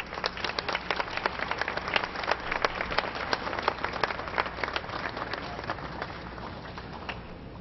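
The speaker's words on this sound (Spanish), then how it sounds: "Invitamos también a todas y a todos ustedes a brindar un aplauso a la memoria de don Gilberto Bosque Saldívar." Applause from an audience at a Holocaust victims commemoration, honoring Gilberto Bosque, moderately distant with distinct individual claps in a steady patter that gradually thins toward the end.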